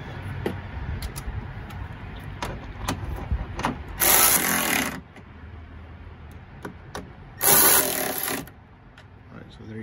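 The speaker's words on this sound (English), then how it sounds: "just go ahead and tighten it with the ratchet" A ratchet tightens a water pump bolt on a Ford Super Duty with the 6.8 engine, giving quick close clicks and two louder, longer bursts of ratcheting.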